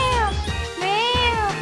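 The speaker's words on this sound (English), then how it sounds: "Laverna's cry is so fun to listen to. Meow!" In Pokémon White, a cat Pokémon gives its short electronic meow cry, loud and close, sounding twice in quick succession.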